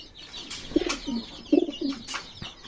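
Several pigeons coo in short low rounded phrases near a loft, two main bursts of calling with faint background noise and no talk.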